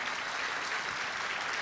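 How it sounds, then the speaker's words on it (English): Audience at a senior fashion show applauding the designers, a dense, even roar of clapping from a large crowd, sustained and fairly distant. "give another round of applause to all of our amazing senior designers"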